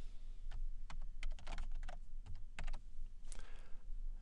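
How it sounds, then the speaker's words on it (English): Fingers type steadily on a computer keyboard, producing a close, continuous run of light key clicks with a few louder taps, alone with no talking. "Type the text you want here."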